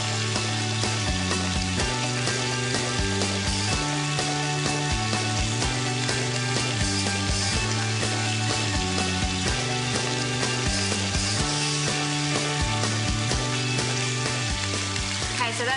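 A pork scotch fillet sears in a hot pan with a constant, loud, dense sizzle and crackle that holds steady throughout, heard close up and without talk.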